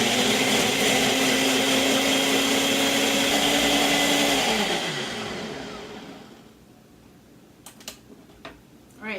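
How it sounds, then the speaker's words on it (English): A blender whirs loudly and steadily while blending a lentil and garlic dip with olive oil and salt, then winds down and stops, leaving a few faint clicks and knocks. "So I'm back with my blender now, and we're gonna go ahead and get this going."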